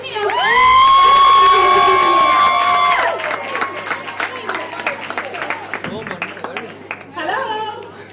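At an International Women's Day community event in Leicester, an audience cheers loudly, with high shouts and whoops, then settles into scattered clapping and chatter, swelling briefly again near the end.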